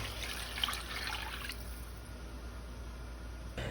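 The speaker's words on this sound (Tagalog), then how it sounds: "At sabawan ng 3 hanggang 4 na tasang tubig." Water pours and trickles into a pot of chicken and chicken cubes for a moment, a soft liquid splash that fades to quiet.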